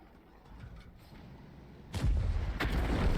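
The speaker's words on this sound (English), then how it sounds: "These guys also drop bombs" Explosions from bombs dropped by enemies in a tank video game, a sudden loud booming onset about two seconds in, with a couple of heavy blasts over rumbling background noise and no talk.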